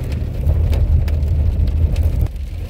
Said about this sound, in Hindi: यहाँ पे बहुत तेज हो गई है बारिश।